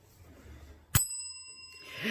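A single bright bell strike rings out to celebrate a finished cross-stitch project, its clear metallic tone lingering and slowly fading over a quiet room, with a faint voice starting up at the end.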